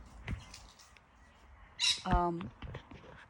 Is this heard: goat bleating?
no